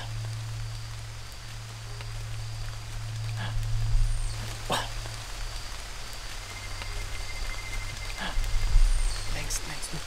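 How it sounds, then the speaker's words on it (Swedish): Rain falls on a dense jungle canopy in a steady, close hiss, with scattered heavier drops and thin insect tones threaded through. "Man hör regnet fast regnet har ännu inte kommit ner."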